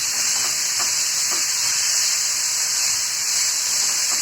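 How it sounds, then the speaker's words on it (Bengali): Pointed gourd (potol) frying in hot oil gives a steady, loud, close sizzle and hiss that runs unbroken throughout, with faint stirring clicks underneath. "এটাকে একটু ভেজে নেবো আমি, যেন পটলের কাঁচা যে গন্ধটা সেটা যেন চলে যায়"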